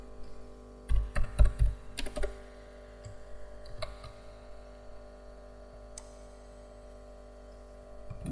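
Keys clatter on a computer keyboard in a quick burst of close, fairly loud clicks, followed by sparser, fainter taps, as an email address is entered for an online survey sign-up.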